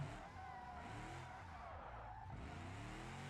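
A car in BeamNG.drive has its tires break loose while drifting, with engine revs rising and falling and tire scrub and squeal running continuously, fairly quiet overall with no speech.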